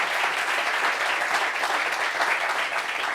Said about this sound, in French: Applaudissements pour la Braise,